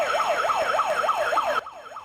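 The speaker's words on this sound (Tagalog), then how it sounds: "Eksakto alas 3 ng hapon nang tumunog ang sirena" A wailing emergency siren for a national simultaneous earthquake drill at Bulacan State University rises and falls in quick, regular sweeps, fairly loud and steady, then drops abruptly in level for the final half second.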